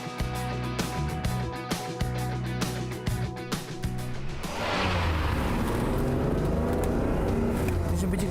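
Yellow Ferrari Testarossa engine running loud and steady, with a rough, stuttering note while the notchy gearbox is shifted, then a fuller, sustained roar as the car pulls away.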